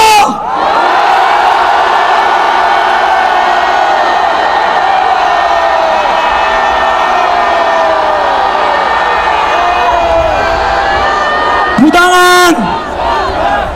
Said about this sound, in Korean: 여기 모인 모든 분들의 함성이 들리십니까?